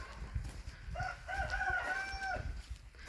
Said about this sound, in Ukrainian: Може комусь ще треба півник молоденький австралорп